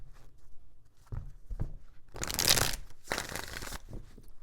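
Tarot cards riffle and slap together close by in several short, papery bursts with brief gaps between them, quiet but crisp.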